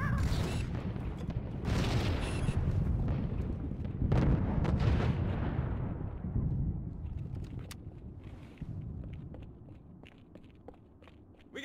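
Frag grenade blast and gunfire in Halo 2 Anniversary combat, a heavy rumbling explosion and sharp shots that slowly decay into scattered crackles and footsteps, loud at first then fading.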